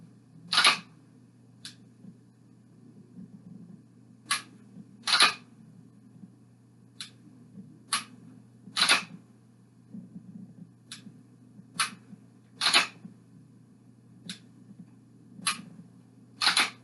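A pistol trigger snaps in dry fire, sharp isolated clicks spaced about one to two seconds apart over a faint steady hum, some strokes crisp and loud, others lighter, with no talking.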